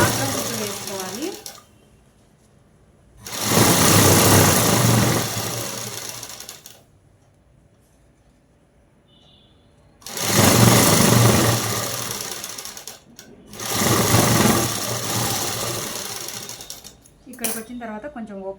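A sewing machine stitches fabric in three loud bursts of rapid mechanical rattling, separated by quiet pauses where someone talks briefly.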